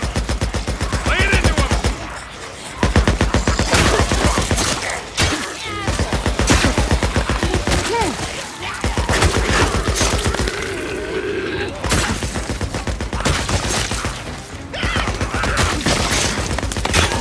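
Sustained, dense gunfire in Days Gone, loud and nearly continuous, with rapid shots piling over one another and brief lulls between long streams of fire.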